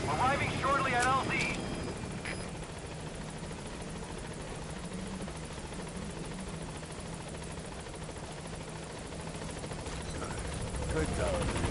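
A helicopter in Metal Gear Solid V arrives at a landing zone, its steady rotor drone and engine roar filling the whole stretch, with brief radio chatter and game sounds at the start.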